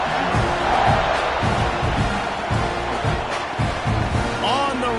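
Steady wash of a stadium crowd cheering in an American football video game after a long touchdown drive, loud and continuous throughout, with faint commentary-like voices mixed beneath.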